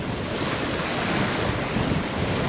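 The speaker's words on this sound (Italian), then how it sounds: "Oggi per i nostri gusti c'è un po' troppo vento, quel vento che risulta quasi fastidioso." Strong wind buffets an Atlantic beach at Punta del Este, Uruguay, a steady loud roar with gusty rumble and surf wash underneath, no voices.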